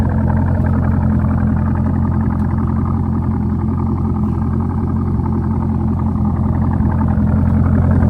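A Chevrolet Corvette C5 being driven, heard from inside as a loud, continuous low engine drone and road rumble that stays steady throughout with no talking.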